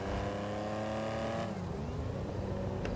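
A posh new car driving in the video game GTA V, its engine note humming steadily with a rising tone that shifts sharply partway through as the car changes gear or speed, fairly close and alone.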